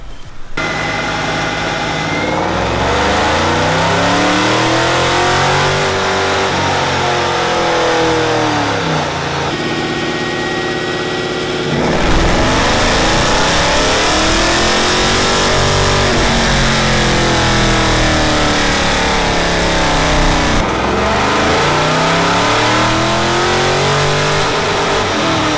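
A twin-turbo Dodge Charger Scat Pack roars loudly on a dyno, its engine sweeping up through the revs in long repeated pulls, dropping back briefly between them, with no talking.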